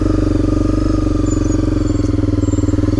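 Honda CRF250L motorcycle engine with stock exhaust, running steadily close by with an even, low rhythmic thrum throughout, no talk.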